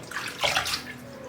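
Freshly rinsed cordyceps flowers being drained, with water splashing and trickling in a brief burst at close range, loudest midway and then settling into a softer running wash.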